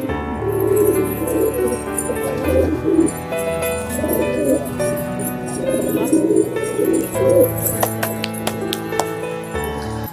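Pigeons eating biscuits coo repeatedly in soft, low murmurs, close by, with faint pecking and rustling underneath and a few light chirps near the end.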